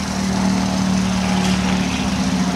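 A lawn mower engine drones loudly and steadily at close range, with no break and no voices over it.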